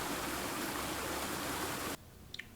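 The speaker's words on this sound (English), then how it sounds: "Listen to the soothing sound of water." Water flows in the video game Call of the Sea as a steady, soft rushing stream for about two seconds, cut off sharply and followed by a couple of faint ticks.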